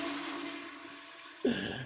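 A toilet flushes abruptly after a quiet stretch of faint hum, with a sudden loud rush of water in the last half second, close by.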